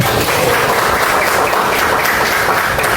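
A classroom of students claps together in a dense, steady burst of applause, loud and close, with no voices over it.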